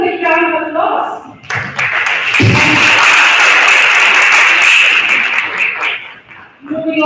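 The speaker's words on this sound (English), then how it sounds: "let's give him a big round of applause" Audience applause at an inclusive hiring event, a steady wash of clapping lasting several seconds, dipping briefly early on, with some talk and a low thump mixed in.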